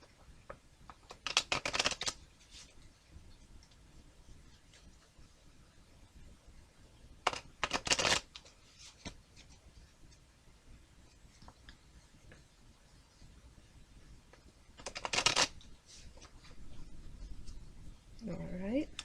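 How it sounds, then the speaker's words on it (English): Tarot cards are shuffled in three short crisp bursts separated by quiet pauses, with a voice faintly heard near the end. "I'm going to shuffle again"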